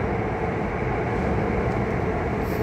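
A steady, loud rumble of an LRT light rail train passing near Baclaran, a continuous roar with no speech heard.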